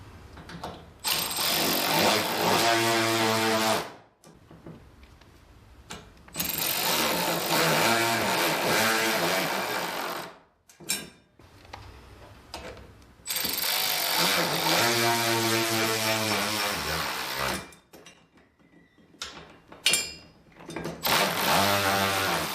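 Power tool driving leg screws into a garage overhead storage rack: repeated loud whirring bursts that rise as each screw tightens, separated by short pauses and handling noises.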